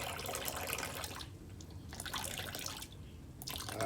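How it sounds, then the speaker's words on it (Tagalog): Homemade rice probiotic liquid poured slowly from a container, a steady close trickle and drip of liquid that thins into brief pauses and resumes, with no talking. "pagdating sa dulo, dahan-dahan ang buhos para po hindi lalabas yung bigas."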